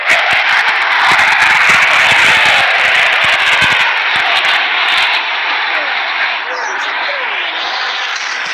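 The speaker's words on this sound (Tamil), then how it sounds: "date listen the fighter jet coming again" A fighter jet roars overhead in a mobile game, a loud, steady, broad rushing roar that fills the whole stretch and eases slightly near the end, with a voice speaking over it.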